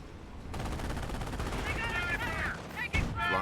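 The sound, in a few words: artillery and gunfire in Company of Heroes video game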